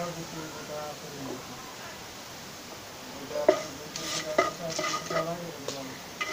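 Cardamom, cinnamon and bay leaves drop into hot oil in a frying pan: a quiet hiss at first, then a sharp clatter and a burst of bright sizzling with scraping stirs, close by.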